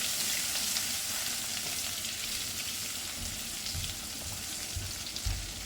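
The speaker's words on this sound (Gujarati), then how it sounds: "આદુ લસણની પેસ્ટ, બરાબર સાતરી લઈશું. લીલા મરચાં 2 નંગ ઉમેરી લઈશું." Ginger garlic paste and green chillies sautéing in a hot pan give a steady, loud hiss and crackle that runs throughout, with a few low bumps near the end and no talk.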